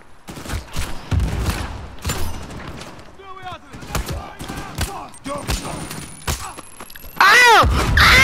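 Video game gunfire, with sniper rifle shots cracking among a dense run of thumping blasts, echoes and game effects, loud throughout and ending in a heavy burst.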